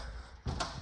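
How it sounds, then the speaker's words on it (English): A vehicle's sliding side door starts to move: after a quiet stretch comes a sudden close rumbling slide with a clunk, running steadily to the end. "The sliding door works on it"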